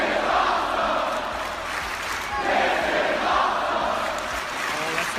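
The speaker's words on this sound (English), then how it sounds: "Probably startled by the crowd noise." A crowd at a Tetris match cheers and chants, a broad steady roar that swells and fades in waves, muffled as if heard through walls.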